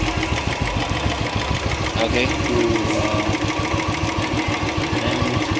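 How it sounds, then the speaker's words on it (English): A warmed-up Royal Enfield Classic 350 single-cylinder engine idles with a steady, rapid thumping beat before an oil change, and a voice speaks briefly over it. "the engine is heated up now."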